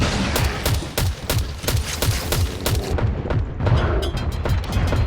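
Grenade launcher gunfire and explosions in the video game Garena Undawn, a rapid barrage of loud, sharp shots and booms repeating almost without pause.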